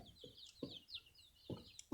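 Native village chickens cluck in short, quiet bursts, three or four soft clucks spaced apart with faint chirps in between.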